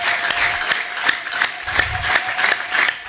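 Steady applause from a church congregation fills the space, a dense wash of many hands clapping continuously with a few sharper individual claps standing out, and a faint sustained tone running underneath.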